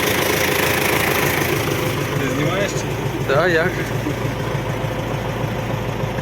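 A tractor engine idles with a steady low rumble while people talk nearby in short exchanges.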